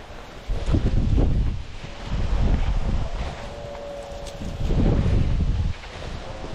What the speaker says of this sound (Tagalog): Bugbog na sa hangin.